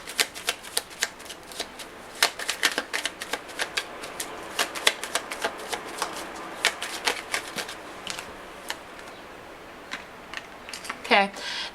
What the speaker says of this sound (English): I'm going to pull 3 cards actually.